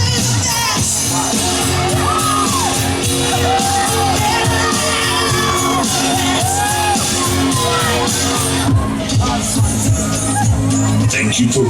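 Riders on the Air Raid fairground ride at Bristol Balloon Fiesta screaming and whooping as a crowd over pounding loud ride music, with shouts rising in bursts throughout.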